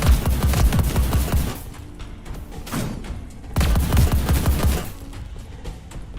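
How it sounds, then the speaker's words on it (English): Rapid bursts of gunfire from the guns in the roguelike game Sephiria, loud dense volleys in two waves with a quieter lull between, no voice over them. "it's fun to shoot the guns"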